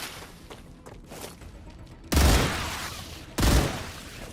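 Gunfire in StarRupture: two loud, sharp bursts of shots a little over a second apart, each decaying slowly over a quiet, low background rumble.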